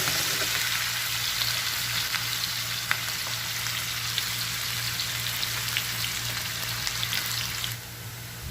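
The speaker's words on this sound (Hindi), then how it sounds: "इसमें हम लोग ऐड करेंगे अपना ऑनियन, और इसको थोड़ा हम लोग फ्राई करेंगे अनटिल गोल्डन ब्राउन।" Chopped onion fries in hot oil, a close, steady crackling sizzle with scattered pops that carries on for several seconds and then suddenly gets quieter near the end, with no one speaking.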